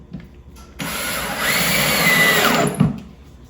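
A power drill drives a screw into a wooden swarm trap: a brief quiet start, then one sustained, loud whirring run of about two seconds that ends with a short thump.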